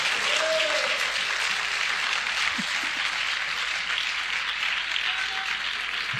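Sustained applause from a church congregation fills the room with dense, even clapping at close range, steady throughout with faint voices beneath it.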